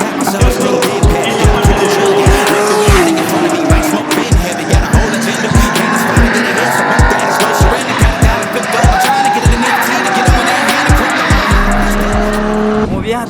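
A DeLorean lapping an ice race track at speed: steady engine drone with regular rhythmic thumps and some tire skid, recorded close from the car, with what sounds like music or voices mixed underneath.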